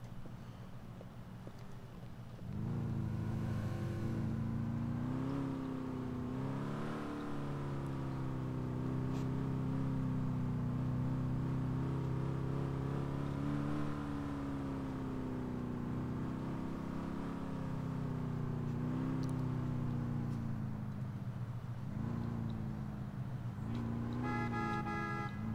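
Liberty State Police vehicle driving in LCPD:FR, its engine a steady, loud droning hum that rises and falls in pitch through the run, starting after a short quieter lead-in, with a brief tonal burst near the end.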